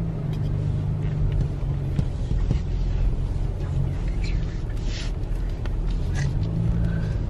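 A car rolls along a dirt road on the way into a gated trailer-park rental near Shell Point Beach, Crawfordville, Florida, with a constant low rumble of engine and tyres on the loose surface heard from inside the cabin.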